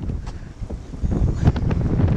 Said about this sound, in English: So I just got a gust of wind there